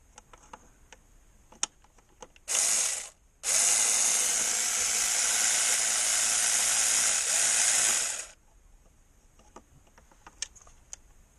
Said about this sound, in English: I'm using a wobble extension.